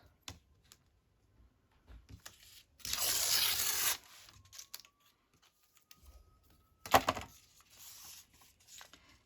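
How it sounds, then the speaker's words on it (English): A scrap of craft paper is torn, giving one sustained rip and then a second short tear, with quiet handling sounds in between. "just tear that off"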